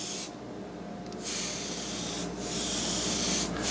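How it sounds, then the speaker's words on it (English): Airbrush spraying onto a cake top through a stencil in short bursts, a steady broadband hiss that briefly cuts out between passes, close and fairly loud. "Then with our airbrush, we're just going to spray"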